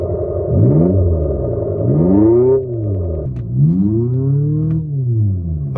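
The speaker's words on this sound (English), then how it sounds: "And I can rev it." A 2023 Abarth 500e Turismo electric car's synthetic engine note rises and falls in three long revving swells, each climbing in pitch then dropping back, loud and steady throughout.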